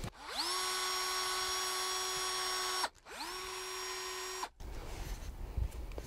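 A power drill whines up to a steady high pitch and holds, stops briefly, runs again, then cuts off into rougher grinding noise as it bores into grapevine wood.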